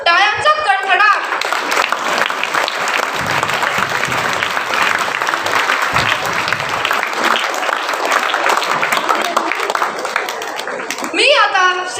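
Lively applause from an audience of students at a school Marathi choral recitation contest for classes eight to ten, dense clapping filling the room for about ten seconds, with voices briefly heard at the start and the end.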